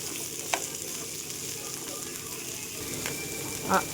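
Garlic and coriander seeds sizzle and fry steadily in hot oil for a horse gram saaru masala, a close, continuous crackling hiss with a few sharper pops and no talking.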